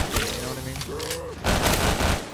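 Rapid gunfire from a weapon in Call of Duty Black Ops 3 custom zombies, a Minecraft-style gun game map, sounding in quick bursts of shots with a short pause between them, under someone talking.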